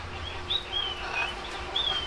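Parrots at the Sunken Gardens in St. Petersburg, Florida give a few thin, high calls from overhead, with short whistled notes rising out of a soft outdoor hush.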